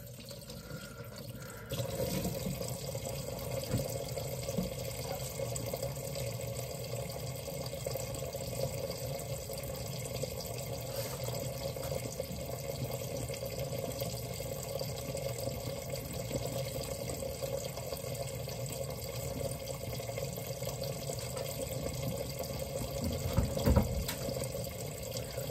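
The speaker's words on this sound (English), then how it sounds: "I gotta fill up my water bottle." Tap water runs steadily into a water bottle at a sink, a constant close hiss and splash that starts abruptly and continues for the whole stretch, with a brief louder clunk near the end and no talking.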